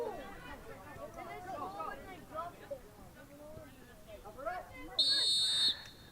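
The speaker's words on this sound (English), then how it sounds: "Referee's whistle goes." A referee's sharp, steady whistle blast near the end of a youth soccer match's first half, sounding over crowd babble and commentary.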